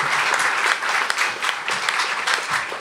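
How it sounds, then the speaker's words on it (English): Steady applause from an audience at a SuperMotocross pre-race press conference in Anaheim, a continuous wash of clapping hands at close range lasting throughout with no pauses. "So round of applause for them."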